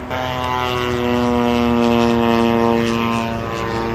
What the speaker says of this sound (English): Well, they're still flying airplanes here.